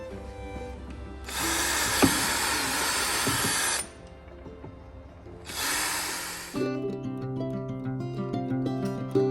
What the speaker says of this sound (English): Jack will drill 1mm holes in the sides of the 2 top boxes to make air vents for the worms.